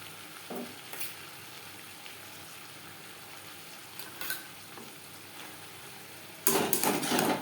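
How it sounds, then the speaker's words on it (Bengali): Drumstick stalks fry in a pan while coconut and green chilli paste is stirred through, a low steady sizzle broken by a few spoon knocks and a louder scraping burst near the end. "ডাটার সাথে নারকেল ও লঙ্কার পেস্ট ভালো করে মিক্সড করে দেবো"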